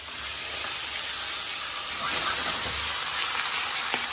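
Veal chops sizzling and hissing steadily in a hot pan, a continuous loud spitting fry with small crackles throughout.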